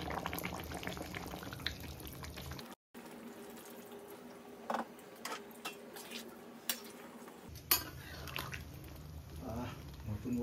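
Hot water poured into a cooking pot for fish curry, bubbling and simmering steadily, with brief clinks and stirring noises over a continuous low boil; a short gap interrupts it partway.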